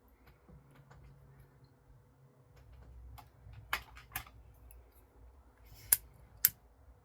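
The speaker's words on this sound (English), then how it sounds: "I'm going to trim it up just a little bit." Scissors trim yarn on a crocheted blanket with flowers, giving a few quiet sharp snips close by over a soft background with no talk.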